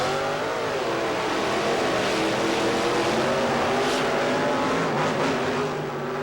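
Monster trucks in a race roar with loud, sustained engine noise, shifting pitch as they accelerate, dense and continuous with no talk.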